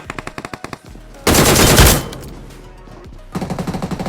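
Machine gun bursts from the BGMI battle royale game: a quick string of sharp rapid shots, then a dense louder volley lasting under a second, a brief lull, and another rapid burst at the end, with no talk.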